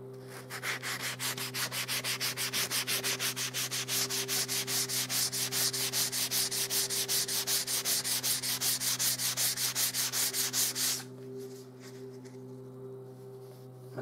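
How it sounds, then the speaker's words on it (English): Fine P240 sandpaper rubs steadily along a painted wood edge in a home renovation, a close, continuous rhythmic scratching of quick back-and-forth strokes that stops near the end, leaving a low steady hum. "using some P240, really fine sandpaper, that I'm going to sand that edge"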